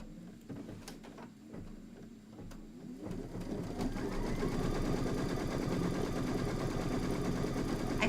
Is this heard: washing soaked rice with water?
no